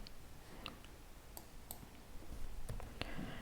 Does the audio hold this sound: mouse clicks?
yes